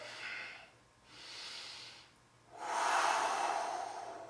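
Deep, airy inhales and exhales during a workout, three broad breaths with short pauses between them, the last one longest and loudest, close and unvoiced.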